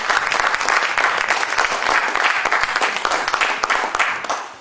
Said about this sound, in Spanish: Pido un aplauso para él para darle la bienvenida.